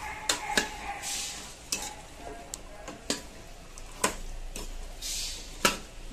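Vegetables including eggplant and boiled chickpeas are stirred together in a pan, with repeated sharp metallic clinks and scrapes of a spoon against the pan over a faint sizzle, close up.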